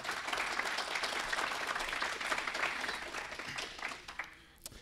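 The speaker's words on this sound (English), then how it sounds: "I want you all to give him a round of applause" A crowd at a DFW tech conference session on AWS S3 security gives a sustained round of dense applause for an arriving speaker, steady and moderately distant before thinning out and fading near the end.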